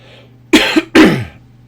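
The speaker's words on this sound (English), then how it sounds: "Last time I needed to cough, I managed to mute it in time, but that one was just coming out of nowhere" Two sharp, loud coughs in quick succession from a person close to the microphone, the second longer and trailing off, with a quiet background hum.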